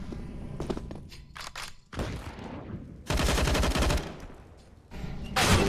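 Pistol fire in a competitive Counter-Strike match, sharp repeated shots in bursts with footstep thuds between, loud and close against game background noise.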